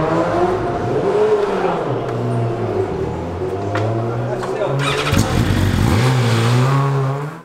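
Racing motorcycle engine running in the pit lane during an 8-hour EWC endurance race at Spa, Belgium, with a steady, close, loud drone and rising and falling pitch. People talk over it throughout.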